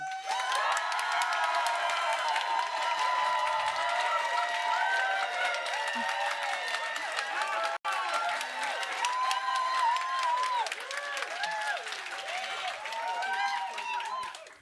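Audience members at a climate education debate clap, cheer and whoop to vote for a motion, a loud, continuous crowd ovation with shrill shouts and excited voices rising over the clapping, dipping briefly midway.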